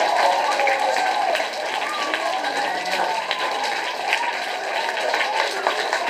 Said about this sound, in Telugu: గట్టిగా క్లాప్స్ పడదాం